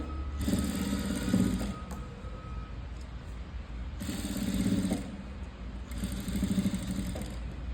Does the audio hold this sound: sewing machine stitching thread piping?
yes